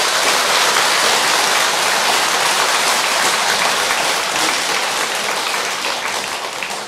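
Sustained loud applause from a large crowd at a Buddhist assembly honouring monks, dense even clapping that fills the hall for several seconds before tapering slightly at the end.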